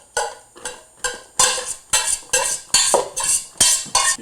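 A spoon scrapes browned ground beef out of a pan into a big bowl, eight or nine sharp metallic clinks and scrapes in an even rhythm, close and clear.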